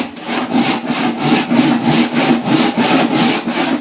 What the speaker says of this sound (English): Now, you can keep sawing at this angle